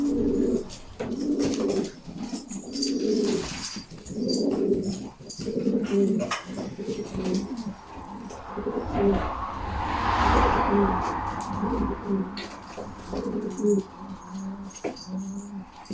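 Repeated throaty coos from filo pigeons, nearby and steady, pulse through the recording, joined by a short burst of rustling partway and occasional faint human voices.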